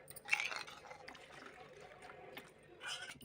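Quiet splashing and trickling of water poured into a bowl, faint and close, with soft bursts at the start and end.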